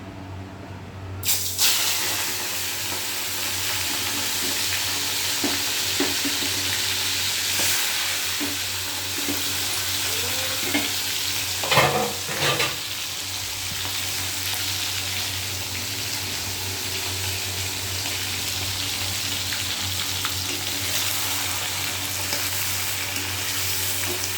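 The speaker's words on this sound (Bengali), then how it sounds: "তেল গরম হয়ে গেছে, এবার চিংড়ি মাছটা ভেজে নেব।" Prawns frying in hot oil, a steady close sizzle running throughout with occasional spatula stirs and faint clinks, no talk.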